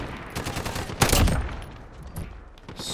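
An FAL rifle fires in Call of Duty, a short loud burst of shots about a third of the way in, with quieter game noise before and after.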